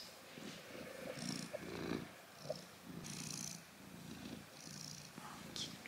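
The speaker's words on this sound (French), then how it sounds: "C'est un chat heureux qui ronronne." A contented cat purrs close up, a soft, rhythmic rumbling that rises and falls with each breath, heard quietly with a few faint background noises.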